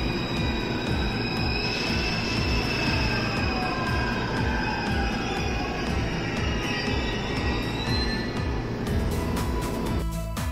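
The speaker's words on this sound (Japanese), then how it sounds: "新快速電車もやってきました" A passing JR West rapid commuter train rumbles loudly and continuously, wheels clacking rhythmically on the rails with a faint squeal of metal, no voices heard.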